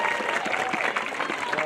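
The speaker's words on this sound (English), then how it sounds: "Not everyone applauded." Audience applause at a live bullwhip show, a short burst of scattered clapping from a modest crowd, steady and moderately loud, with a voice talking over it.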